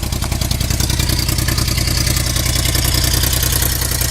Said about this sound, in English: Not used to the 6-cylinder sound yet.